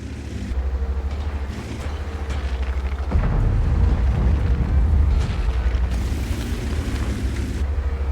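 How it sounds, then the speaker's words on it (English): In a tank video game, a Skorpion G tank destroyer smashes down buildings with deep rumbling booms and crashes. A steady engine drone runs underneath, and the loud collapse swells near the middle of the clip. "I'll knock some more buildings down right here"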